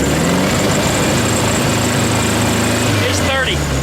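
Air-cooled 1972 VW Beetle engine running at raised revs, a loud, steady buzzing drone close by, with speech near the end.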